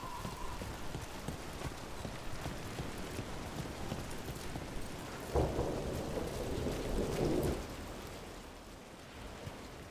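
Steady rain falls in the video game Dragon Age: The Veilguard, with a low rumble of thunder swelling midway and rolling off, moderately loud and unaccompanied by speech.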